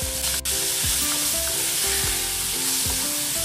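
Cooked broad beans (chikkudukaya) hit hot oil in a pan and sizzle loudly and steadily, with a few scraping stirs of a spatula; no one speaks.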